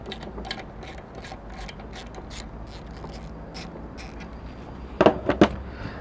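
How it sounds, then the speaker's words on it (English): A ratchet with a 10mm socket works a bolt loose on a Mitsubishi 3000GT/GTO, giving a few sharp, close clicks near the end after a stretch of quiet mechanical rustling. "To remove it, you just need your 10mm socket. You undo the 10mm bolt."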